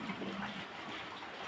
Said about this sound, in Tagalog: Water. There's water, guys.